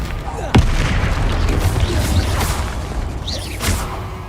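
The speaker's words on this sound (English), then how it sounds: "Confringo!" Confringo fire spell in Hogwarts Legacy goes off as a sharp, loud boom followed by a rolling rumble and whooshing bursts, with a second smaller blast near the end.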